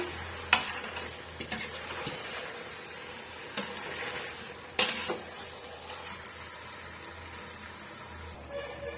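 Chicken biryani mixture stirred in a pressure cooker, quiet scraping with occasional sharp metallic clinks of a spoon against the pot over a low sizzle, close by.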